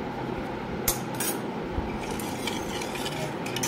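A metal spoon stirs a spiced drink mixed with ground coriander, black pepper and black salt, making close, continuous scraping with a few sharp clinks against the vessel.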